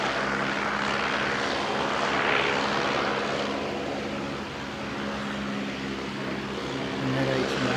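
An ATR 72 turboprop airliner departs for Wellington, its engines and propellers producing a steady, loud droning roar with constant tonal hum that holds throughout with little change.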